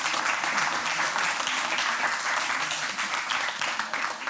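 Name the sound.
audience applause for Pierre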